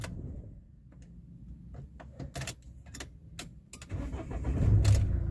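Inside a Mahindra Scorpio with the engine running, a low rumble sits under irregular sharp rattles and clicks as the gear knob shakes, close and moderately loud.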